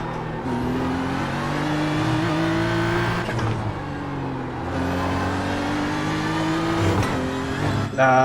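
BMW GT3 race car at Okayama in iRacing, its engine rising in pitch through the gears in two long pulls, with sharp downshift drops and a brief lull between, close and loud.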